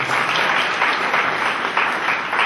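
An audience at a robotics lecture session breaks into steady, dense applause, many hands clapping together at close range with no voices over it.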